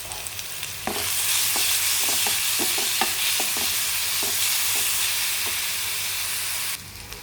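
Onions and green chilies fry in a pan, a loud steady sizzle that starts abruptly, runs on with scattered crackles and pops, then cuts off near the end; no talking.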